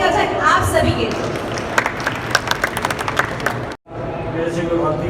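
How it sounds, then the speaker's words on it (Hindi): An audience at the Ayush Shala expo by Hamdard at HITEX, Hyderabad, bursts into dense, sustained applause. The clapping cuts out briefly, then resumes, with voices mixed into the crowd. "एक बार जोरदार ताली हो जाए आप सभी के लिए"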